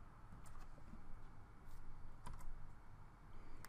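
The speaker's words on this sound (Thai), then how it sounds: "ตอนนี้ เราก็พิมพ์คำสั่งนี้ลงไปนะครับ" Quiet, rapid keystrokes on a computer keyboard as a package-search command is typed into a Red Hat Linux terminal, a soft continuous patter of clicks close to the microphone with no talking.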